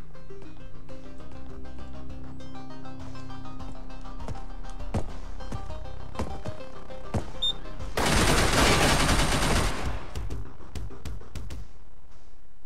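Gunfire in the video game Receiver: scattered sharp shots and mechanical clicks of gun handling, then a dense burst of loud rapid fire lasting about two seconds, with no talking.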